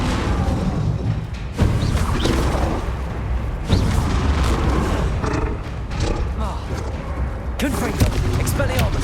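Confringo fire-blast spell bursts in Hogwarts Legacy, a wizarding action game, land as repeated booming impacts amid a dense, loud battle din, with a voice shouting over the clash.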